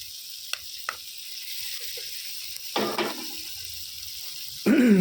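Mutton liver goes into a hot pan with a few soft clicks and splashes, then a sharp burst of sizzling that settles into a quieter hiss, closing with a louder scrape and surge of frying.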